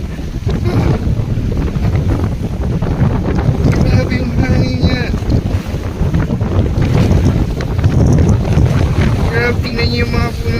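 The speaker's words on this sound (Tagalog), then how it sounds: "Baba na tayo guys kasi masyadong malakas yung hangin" Strong wind at sea buffets the microphone with loud, constant roaring gusts, while voices are heard faintly through the noise.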